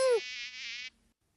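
A cartoon mosquito buzzes in a thin, high, steady whine lasting under a second, close and clear, with no voices over it and a brief tonal cue at the very start.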